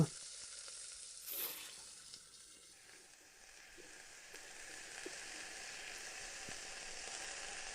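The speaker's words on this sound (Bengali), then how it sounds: "এবার এই তেলের মধ্যে কেটে রাখা ফুলকপিগুলো ভেজে নেব" Cut cauliflower frying in hot mustard oil with a little turmeric in a wok, a faint, steady hiss of sizzling oil with a few soft stirs and no talking.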